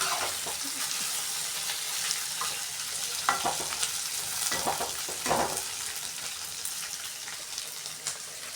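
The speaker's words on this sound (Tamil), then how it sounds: "இது எண்ணெயிலே நல்லா இது மாதிரி கிளறி விட்டுக்கலாம்." Colocasia (taro root) pieces being stirred in hot frying oil, a steady close sizzle with scraping stir strokes bunching into louder bursts around the middle, no voices.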